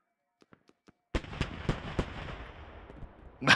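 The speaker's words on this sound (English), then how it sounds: "It is Archangel, like a timpani drum." Archangel gunship firing heavy rounds in the video game Squad, a few faint distant thumps followed by a run of loud, booming impacts that roll and echo, ending in a sharp blast.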